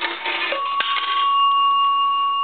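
A coin rattles into an A&E three-slot payphone, then its bell chimes once for a nickel, a clear metallic strike that rings on and slowly fades, close and loud, with no voices.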